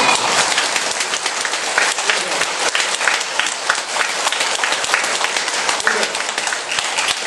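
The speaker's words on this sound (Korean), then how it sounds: "박수를 세게 치시는 분은 제 말을 믿어" Loud, continuous clapping from a church audience at an evening health seminar, a thick wash of many hands that holds steady from start to finish with no pauses.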